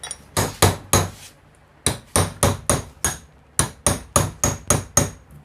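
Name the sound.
hammer striking chisel to cut open motor for rewinding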